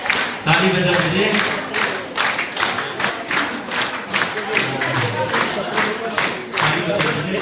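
Audience at a Mother's Day program in Yupia applauding: dense, sustained clapping from a crowd fills the hall, with voices mixed in underneath.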